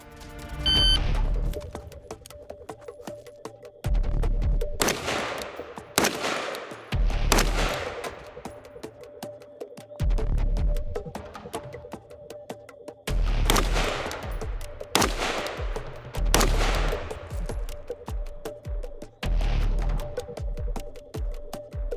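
Rifle shots fired at distant targets while testing a Primary Arms SLx 1-6 scope: about nine loud, booming reports spaced a few seconds apart, each with a long echoing tail, over a steady hum.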